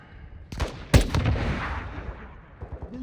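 In the Call of Duty: Modern Warfare 2 (2022) campaign, rocket fire and gunfire erupt as a few sharp, close gunshots, then a heavy booming rocket impact that rumbles away, with more scattered shots at the end.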